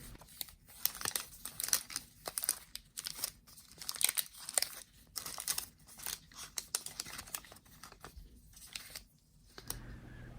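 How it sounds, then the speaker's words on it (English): Plastic swab package being crinkled, twisted and torn open by hand, a dense run of close crackling and crumpling bursts with brief pauses, no talking. "gently pull the top half of the swab pack upwards"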